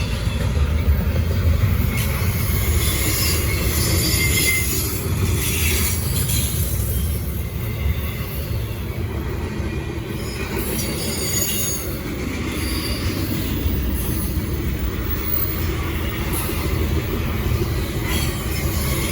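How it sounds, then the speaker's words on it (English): A southbound intermodal freight train passes close by at speed, its wheels squealing steadily against the rail over a continuous heavy rumble and rattle of cars, holding loud and even throughout. "Definitely the fastest southbound intermodal you'll get."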